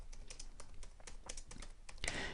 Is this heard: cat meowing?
no